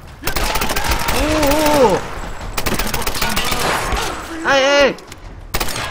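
Rapid submachine gun fire in the video game Tomb Raider crackles in long bursts, loud and near, broken by short pauses, while a player shouts exclamations over it.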